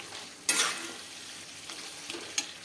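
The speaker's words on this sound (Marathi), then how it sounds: "मीठ घालून घ्यायचं आहे चवीनुसार परतून घ्यायचे" Grated raw papaya being stir-fried with salt in a pan: a faint, soft sizzle broken by a few sharp scraping stirs, the loudest coming early, close by and with no voices.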